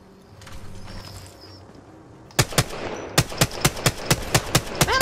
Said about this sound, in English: I'm shooting them and missing horribly.